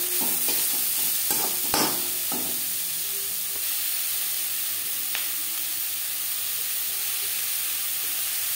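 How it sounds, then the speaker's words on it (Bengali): Onion and garlic stirred with salt and turmeric in a hot pan, a constant close sizzle with a few scraping clicks of the spoon early on, then steady frying hiss. "লবণ হলুদ পেঁয়াজ রসুনের সাথে বেশ ভালো করে মিক্স করে দেব"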